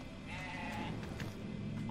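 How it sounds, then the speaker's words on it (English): A sheep in the video game Grow Home bleats in a wavering, nasal call over a low ambient game hum, faint and with no talk on top. "Ah, it's a sheep!"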